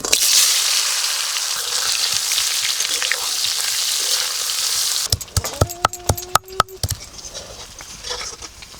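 Asafoetida drops into hot mustard oil for a potato curry, giving a steady, close frying hiss that continues for several seconds before a spoon clatters sharply against the pan.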